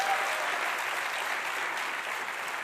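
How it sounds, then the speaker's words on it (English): Steady, moderately quiet audience applause in a hall at a university convocation, an even wash of many hands clapping without pause throughout. "Again, big round of applause"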